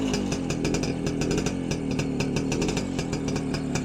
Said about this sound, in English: the next thing we need to do really is fire that up and get some two-stroke smells